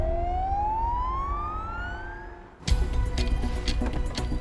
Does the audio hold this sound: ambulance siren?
yes